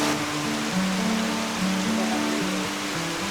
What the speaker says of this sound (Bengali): এমন একটা বৃষ্টি পেয়েছি এবং সেই বৃষ্টিটি উপভোগ করার সৌভাগ্য হচ্ছে আমাদের